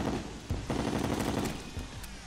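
Rapid gunfire from a weapon in the video game Terraria, a dense stream of quick shots at moderate volume continuing throughout, with a few sharper bursts standing out.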